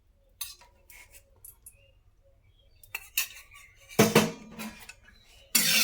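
Metal spoon clinks and scrapes against a heated kadai as white oil is added, a few sharp separate knocks and rattles, close and fairly quiet, with no talk.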